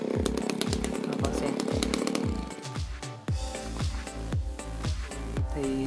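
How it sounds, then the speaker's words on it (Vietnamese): A chainsaw cuts down a kapok tree growing among pepper vines, its engine droning loud and steady throughout with repeated revving pulses and a brief dip partway through. "Thì cái việc cưa hạ gòn này thì nó cũng đơn giản"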